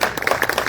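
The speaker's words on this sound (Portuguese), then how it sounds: "E ele adora palmas" Audience applause greeting a tax lawyer onto a stage at a condominium-market talk, a short burst of many hands clapping close and fairly loud.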